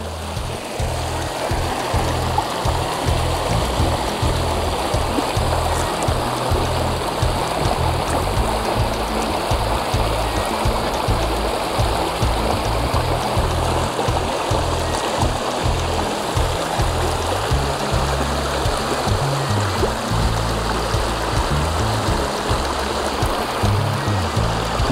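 A clear forest stream in Gorumara, near Murti, rushes along in a loud, constant wash of flowing water, close by and uninterrupted, with no voices.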